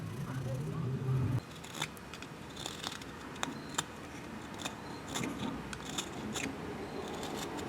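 Repeated short crisp snips as a Lexan polycarbonate crankbait lip is cut by hand with no power tools, close and fairly quiet, with a low hum at the start.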